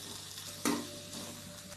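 Onions sautéing in oil in a pan for coconut onion chutney, a soft steady sizzle with one sharp utensil clack near the start, quiet and close.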